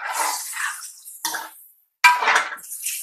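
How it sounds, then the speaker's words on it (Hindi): Cooking water from boiled chickpeas poured into a chana pulao pot, heard as splashing, trickling bursts with brief clinks of the vessel, broken by a short silent gap. "ये चने उबले हुए, और इसमें जो थोड़ा सा पानी था वो भी सब इसके साथ डाल देंगे"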